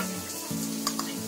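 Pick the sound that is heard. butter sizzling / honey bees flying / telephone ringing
butter sizzling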